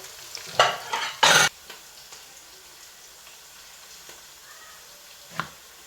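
Onions frying in a pan for an aloo baingan dish: a couple of loud, brief scraping stirs near the start, then a faint steady sizzle with an occasional soft clink.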